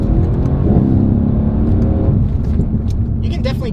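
A Mercedes-AMG C63 S Coupe switched into race mode rumbles with a deep, steady engine drone while driving, with a person talking over it.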